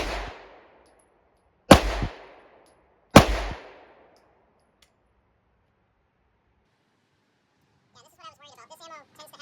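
Three loud, sharp pistol shots from a Smith & Wesson SD9VE crack at a shooting range with a few seconds between each and short ringing decays, then a voice speaks faintly near the end.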